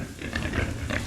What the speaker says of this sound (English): Big pig.